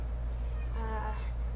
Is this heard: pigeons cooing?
no